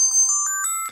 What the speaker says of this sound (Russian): Message tone.